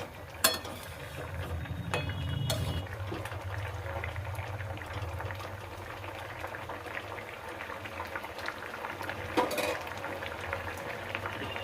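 Fish sizzle in hot oil with green chillies, a soft steady crackling and bubbling heard close by, punctuated by a few clinks of a utensil against the pan; no voices.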